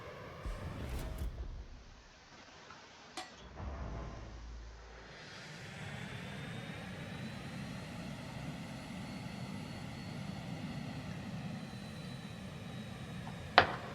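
A jet aircraft roars in a World War II era naval video game, with a low engine rumble that swells into a sustained, steady drone, punctuated by a few sharp impacts.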